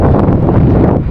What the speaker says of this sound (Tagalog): Ang lakas ng hangin, tinutulak tayo pabalik.